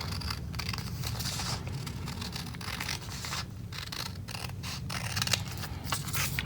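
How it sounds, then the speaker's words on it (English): Scissors cut printed paper into strips, a run of quick crisp snips and slicing rasps close up, continuous and alone without talk. "Cut out each strip. I'm going to cut it a bit more accurately."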